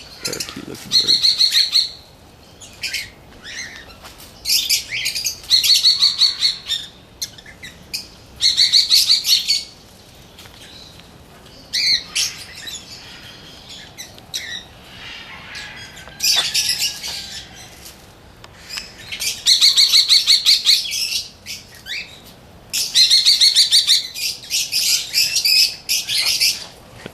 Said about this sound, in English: Little parakeets.